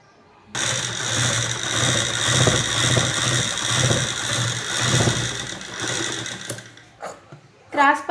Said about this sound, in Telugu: ఇప్పుడు ఎలా కుట్టాలో చూపిస్తా చూడండి.